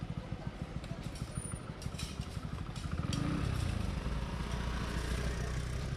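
Motorbike engines rumble and putter close by at a rickshaw stand near road construction, one revving louder as it passes, with a steady roadside drone underneath.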